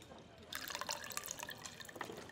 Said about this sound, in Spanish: se está echando agua